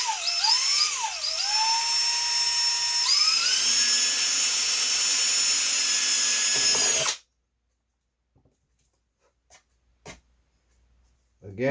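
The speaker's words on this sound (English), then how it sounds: "I'm holding the weight of the drill up." Power drill boring into 1/16-inch plywood on a wooden model kit, a high whining motor with shifting pitch for about seven seconds, then it stops, leaving near silence and a few faint clicks.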